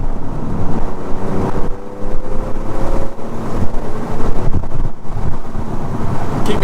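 Alfa Romeo engine driving on a hot day with the windows open, a loud low rumbling drone mixed with heavy wind buffeting and road roar, continuous with no talk.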